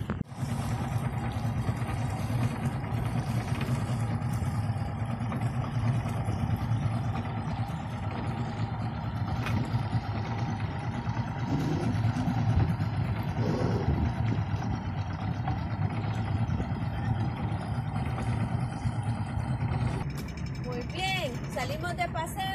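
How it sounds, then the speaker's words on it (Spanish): A speedboat's engine drones steadily on the water during a short ride, a constant low rumble with a faint whine, while voices talk over it almost the whole time. "Salimos de paseo en una lancha rápida, que es un medio de transporte acuático."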